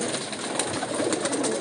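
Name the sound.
pigeon cooing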